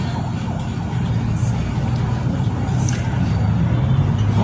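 A car engine cranks and then settles into a steady running rumble after its battery is replaced, close and continuous throughout.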